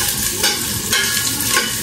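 Ginger, lemongrass and onion sizzle steadily in a hot pan while being stirred, with a dense, continuous frying hiss and a few soft scraping strokes, close and loud with no voices.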